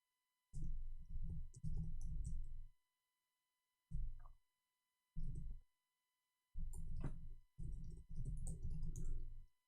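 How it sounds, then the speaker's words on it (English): Computer keyboard typing in quick bursts of clicking keys separated by short pauses, close and fairly quiet, with no talk. "Oops, I was typing for him in Arabic."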